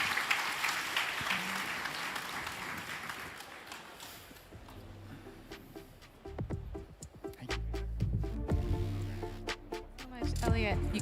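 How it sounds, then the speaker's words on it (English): An audience at a Toronto Tech Week tech conference panel claps loudly for several seconds, then the applause thins out and gives way to close talking and scattered taps and knocks. "Another round of applause for Lucy, Nick, Elliot, and Mina"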